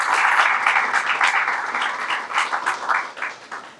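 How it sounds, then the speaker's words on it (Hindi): Audience applause at a book launch ceremony, a dense sustained clapping from a crowd that rises and falls slightly before tapering off near the end. "बहुत सी तालियां होनी चाहिए।"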